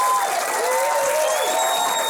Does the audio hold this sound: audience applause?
yes